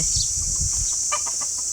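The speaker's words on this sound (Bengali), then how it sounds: "মোরগ ওই সবগুলো মুরগি ডিম দেওয়ার জন্য এখানে রাখছে ওরা" Laying hens and a rooster on a farm cluck softly in short, low bursts, with a few sharper calls near the end over a steady hissing background.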